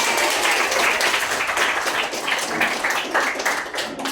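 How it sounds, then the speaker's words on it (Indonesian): A group of people in a classroom clapping together in sustained applause, dense and fairly loud throughout. "tepuk tangan untuk kita semua"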